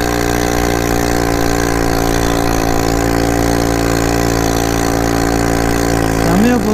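An ATV quad bike's four-wheeled engine runs steadily off-road on sand near Dhanushkodi, Rameswaram, a loud continuous drone with strong harmonics throughout and a brief rise in pitch at the very end.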